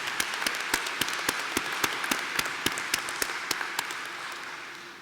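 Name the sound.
graduates' round of applause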